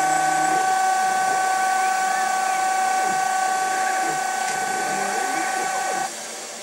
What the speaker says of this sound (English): When this is complete, the tool will return to the datum.